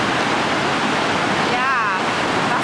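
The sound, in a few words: bubbling water in Bydgoszcz in winter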